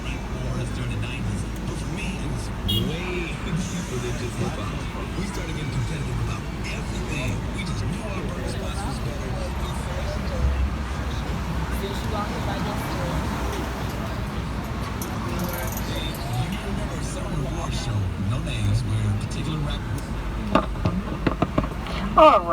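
Steady city traffic rolls past a Hollywood tour vehicle, a continuous mix of engine drone and passing cars with occasional sharp knocks, while a voice talks on and off over it.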